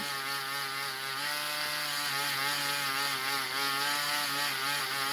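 A handheld Dremel rotary tool polishes a preformed stone cabochon in circular motions, its steady high-pitched whine running continuously and close, with a faint rise and fall in pitch as pressure shifts.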